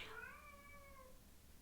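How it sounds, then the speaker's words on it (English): A single faint, drawn-out cat meow, high and wavering, fading out after about a second with nothing else around it. "if you hear a cat crying, which I'm pretty sure you do"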